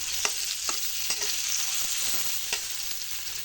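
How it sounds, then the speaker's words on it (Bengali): Apple pieces fry in a little oil for an apple bharta, a steady soft sizzle broken by several sharp scrape and stir clicks at irregular intervals, close and alone with no talk. "কম তেলে আপেলটা ভেজে নিতে হয়"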